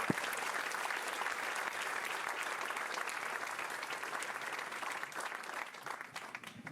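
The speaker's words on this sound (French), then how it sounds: "je vous demande d'accueillir avec beaucoup de chaleur, de nombreux applaudissements, la présidente du CNOSF, Amélie Oudéa Castéra." Warm audience applause at a French sports technology conference welcoming the president of the national Olympic committee, dense steady clapping filling the room and tapering slightly at the end.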